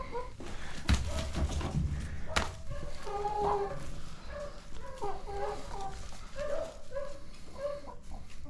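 Chickens cluck and murmur repeatedly around a rainy homestead yard, close and moderately loud, with short bursts over steady background noise and some brief handling sounds.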